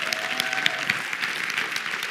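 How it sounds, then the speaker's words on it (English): An audience at an email marketing talk breaks into a brief burst of steady clapping, moderately loud and even throughout, with a faint voice under it early on. "give him a round of applause there"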